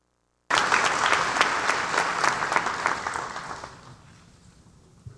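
An audience at a college honors ceremony applauds for the social science departmental honorees, a sudden full burst of clapping that holds steady for a few seconds, then thins and fades away.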